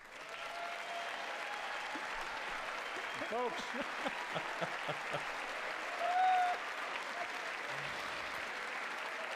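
Sustained applause from a large audience at the State of the Union address fills the room at an even level, with someone speaking over the clapping.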